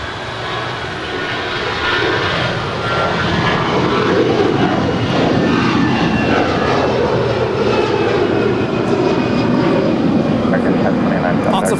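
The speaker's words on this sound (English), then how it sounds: "This is American 1029 departing to Chicago. It's an A321." An American Airlines Airbus A321 jet takes off from runway 25 right at Los Angeles International, its engine roar swelling to a loud, steady broadband rumble, with talk and radio chatter beneath.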